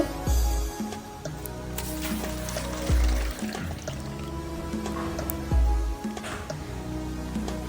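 Dirty sand is washed clean with water for traditional Bengali village puffed-rice frying: three heavy sloshing splashes at regular intervals, with dripping and squishy wet churning between them.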